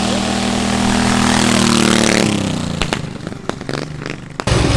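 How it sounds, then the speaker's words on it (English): A Vanguard engine in a drift quad runs at a loud, steady high rev, then drops abruptly to a rough, sputtering idle with a few sharp pops and a brief blip of throttle at the end. "This might be the best sounding engine we've ever had on a project"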